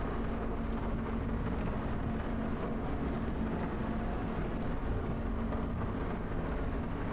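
Heavy storm rain in Farming Simulator 25 on a Polish farm pours down as a steady, dense wash of noise with a low rumble, loud and unbroken the whole time.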